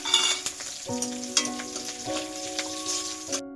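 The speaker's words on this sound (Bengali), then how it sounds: "এবং কালো জিরে দিয়ে দিলাম তেলের মধ্যে" Black cumin seeds dropped into hot oil alongside garlic and green chilies, sizzling steadily with sharp spattering pops and stirring scrapes, close and fairly loud, cutting off abruptly.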